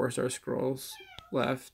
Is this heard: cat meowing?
yes